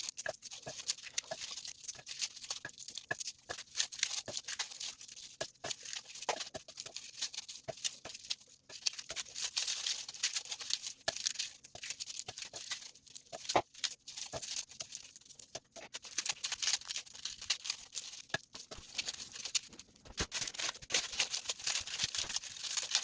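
Garlic cloves are peeled by hand, a close, quiet series of irregular crackling, papery tearing and rustling skin sounds continuing steadily without talk.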